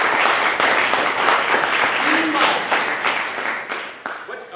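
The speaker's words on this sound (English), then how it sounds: "Would you join me in giving him a warm round of applause?" A lecture audience gives a warm round of applause for an introduced speaker, dense clapping filling the room at full strength and tapering slightly toward the end, with a voice starting underneath.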